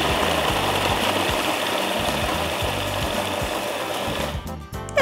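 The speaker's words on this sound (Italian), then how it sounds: "Ora vado a frullare." Blender whirring through cheesecake base ingredients such as biscuits and coarse cane sugar, a loud steady motor drone with rhythmic chopping pulses throughout, stopping abruptly near the end.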